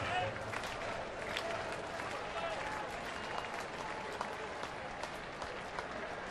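A baseball stadium crowd at a Reds at Pirates game in the 8th inning keeps up dense, continuous applause throughout, with a commentator talking over it.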